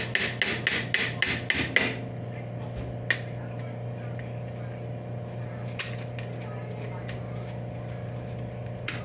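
Knocking on a mop head to loosen the stuck fitting gives a quick run of about eight sharp, close taps at the start, followed by a couple of isolated knocks over a steady background hum.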